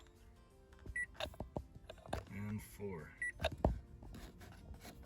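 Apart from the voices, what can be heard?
car dashboard button beep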